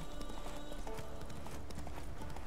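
Steady rhythmic clip-clop of horse hooves at a gallop in The Witcher 3: Wild Hunt, continuous and even, with a faint ambient music bed behind.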